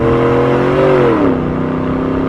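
A truck fitted with a Borla S-Type exhaust accelerates, a loud, steady engine drone that climbs in pitch, then settles back into a deep, continuous rumble.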